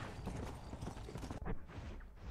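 Horse hooves clip-clopping in the Red Dead Redemption: Undead Nightmare video game, a quick, close, busy trot of hoofbeats that thins out toward the end, fairly quiet overall.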